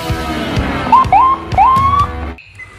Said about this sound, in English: This is Indonesian police car.